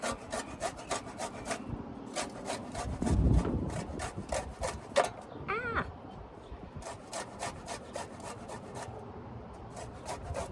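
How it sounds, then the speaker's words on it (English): Fresh garlic being grated, a fast run of rough scraping strokes close by, pausing briefly midway where a cat meows once, then resuming steadily. "Let's grate a little more garlic."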